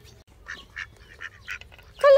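Ducks quacking at a park pond in Athalassa park, Nicosia, a series of short calls spaced through the moment, ending in a louder, closer quack.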